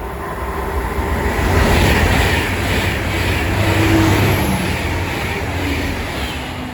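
An Avanti West Coast train from London Euston to Liverpool passes close by on the main line, a steady loud rush of wheels and traction swelling and easing over several seconds.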